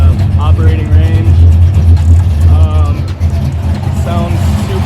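LS1 V8 idling in a Mazda RX8 drift car, a loud, steady low rumble throughout, with someone talking over it.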